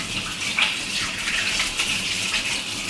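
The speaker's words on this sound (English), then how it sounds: "now I'm gonna stop for just a second and wash my hands" Hands are washed under a running kitchen tap, a steady close gush of water with slight splashing shifts as the hands move through the stream.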